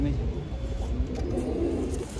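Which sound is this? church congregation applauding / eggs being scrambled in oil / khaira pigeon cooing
khaira pigeon cooing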